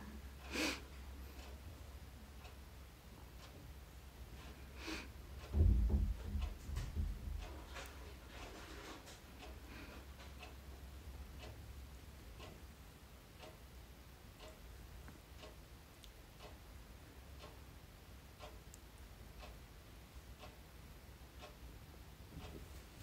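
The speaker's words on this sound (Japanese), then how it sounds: "時計の音ですね" A wall clock close by in a room ticks in a steady, faint, regular rhythm throughout, with a brief burst of breathing or snorting noise near the start and no talking.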